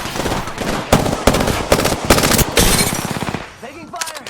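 Rapid automatic gunfire from the video game Apex Legends, dense bursts of loud cracks that end in a short pause, with game voice lines and effects mixed in.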